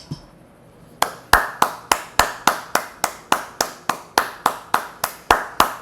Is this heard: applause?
yes